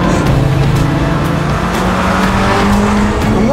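BMW M3 Competition race car engine downshifting into second gear for a corner, a loud, close, continuous roar whose pitch drops and then climbs sharply near the end, with faint tire noise underneath.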